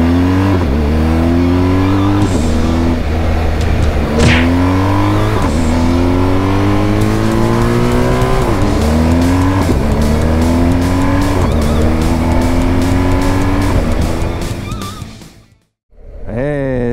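A BMW GSA motorcycle in dynamic mode pulls hard through first and second gear, its engine note climbing in steady rising sweeps broken by quick shifts, loud and close throughout before cutting out abruptly near the end.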